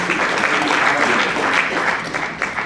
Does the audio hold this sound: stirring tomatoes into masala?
no